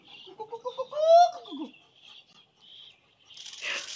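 Pet pigeons make soft coos and chirps close by at the start, followed by faint scattered rustles, quiet gaps and a short burst of fluttering or noise near the end.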